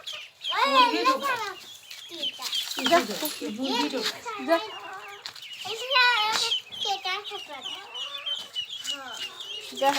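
Several hens clucking and squawking close by, continuous and busy, with some children's voices mixed in.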